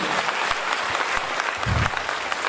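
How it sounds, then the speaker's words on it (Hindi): An audience gives loud, sustained applause to welcome a guest at a Hindi-speaking gathering, with a thick mass of clapping and scattered close claps cutting through. "एक जोरदार तालियों से स्वागत मिस्टर कुमार कुलविजय जी के लिए"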